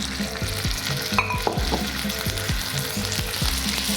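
Turkey and asparagus sizzle steadily in a hot pan, a close, continuous frying hiss with soft stirring scrapes and clinks running through it, no voices.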